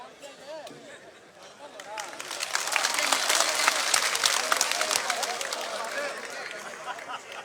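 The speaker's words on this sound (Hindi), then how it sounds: "जोरदार तालियों के साथ डॉक्टर अनिल जी और आए और अपने विचार रखें।" Loud applause and cheering from a crowd at an election campaign rally in Rajasthan, swelling to a dense peak midway and tapering off, with a speaker's voice over the PA at the start and end.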